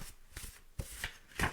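A deck of very light cards riffles and shuffles in a few quick bursts, soft and close with no talk.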